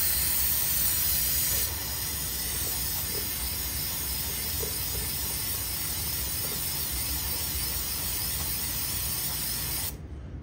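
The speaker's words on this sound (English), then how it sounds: "take some brake cleaner and blow out the housing" Brake cleaner sprays in one long, continuous hiss to blow out a Subaru STI DCCD transmission housing, close and steady for about ten seconds before cutting off.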